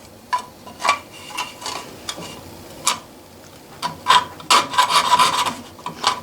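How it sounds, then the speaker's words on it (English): A German-made jeweler saw cuts sheet metal on the downward stroke, giving a run of short rasping strokes, irregular at first then quicker and denser, close and moderately loud with no talking. "It's a little bit bigger one. made in Germany. Again, it's a jeweler saw,"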